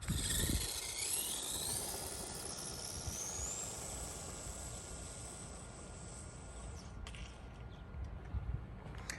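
A Furitek Rampart 1/24 scale RC monster truck, run without its body, driving with a high electric motor whine that rises in pitch as it speeds up, then drops away amid scuffs and knocks.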